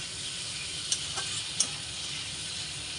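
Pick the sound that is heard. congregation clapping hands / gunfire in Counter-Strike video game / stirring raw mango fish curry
stirring raw mango fish curry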